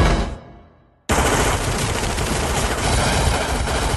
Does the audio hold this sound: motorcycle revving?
no